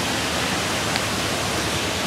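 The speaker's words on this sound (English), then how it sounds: "I'm gonna start this one up on top of the waterfall." A waterfall roars as a loud, dense and unbroken rush of water, heard from up close at the top of the falls with no voices.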